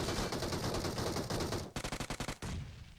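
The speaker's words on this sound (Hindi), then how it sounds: "नीचे से भाई फायरिंग कर रहा था।" Rapid automatic gunfire in the mobile battle royale game BGMI, a sustained loud burst followed by a string of distinct separate shots, close and with no talk over it.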